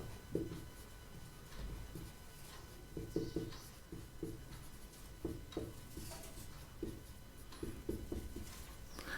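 Pen writing numbers on paper while a Class 10 math problem is worked out, with soft scratchy strokes and quick taps coming in short irregular bursts, quiet and close, no talking.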